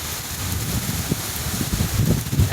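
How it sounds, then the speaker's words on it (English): Hurricane Ian rain sets in with driving wind outdoors in Florida, a dense continuous hiss of rainfall over gusty roaring wind and microphone buffeting that swells louder toward the end. "Yep, the rain is coming now with the wind."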